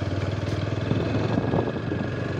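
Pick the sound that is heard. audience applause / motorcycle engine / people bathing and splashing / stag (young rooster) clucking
motorcycle engine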